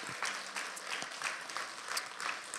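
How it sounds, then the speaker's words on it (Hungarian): A church congregation claps during a Christmas worship service, a steady spread of many hands applauding at moderate distance, fairly quiet and unbroken, with no voices over it. "Tapsoljuk meg az Urat."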